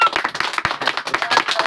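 A group of people clap their hands together in a quick burst of short, overlapping claps, close and fairly loud, at a gathering held to cheer on a child's education.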